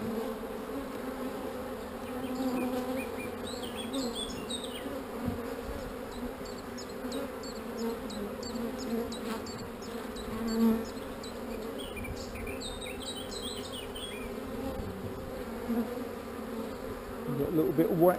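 A dense, continuous hum of many bees fills the air around an open hive during a queen cell check, steady and fairly quiet, with a brief rustle near the end.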